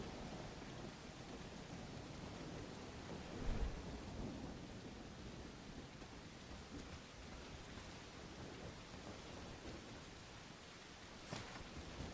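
Rainstorm in the medieval game Bellwright: a quiet, constant patter of rain with a low thunder rumble swelling once early on and a smaller roll near the end.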